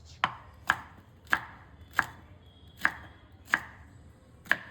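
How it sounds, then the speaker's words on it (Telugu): A knife chops okra (ladyfinger) into small pieces on a board with eight sharp, evenly spaced thuds, close and clear over a quiet background. "1 కేజీ బెండకాయలను తీసుకొని మంచిగా వాటిని క్లీన్ చేసి చిన్న చిన్న ముక్కలుగా కట్ చేసుకుంటున్నా"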